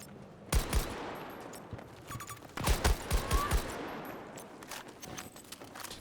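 Bursts of gunfire from Battlefield 2042 ring out in two clusters of rapid, close shots, with sparser single shots and faint distant battle noise in between.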